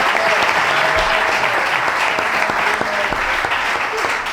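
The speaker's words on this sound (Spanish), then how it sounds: "por favor, otro aplauso para Juan Luis." A hall audience at a food, culture and flamenco dialogue claps in a sustained, even burst of applause, broad and close, with no talk over it.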